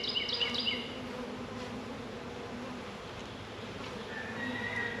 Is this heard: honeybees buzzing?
yes